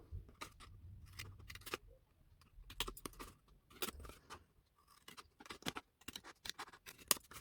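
Scissors snipping through card while trimming the flaps of a handmade gable box, giving a string of close, quiet, irregular cuts and rustles with small handling sounds in between.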